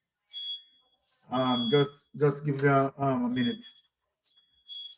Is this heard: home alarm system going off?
yes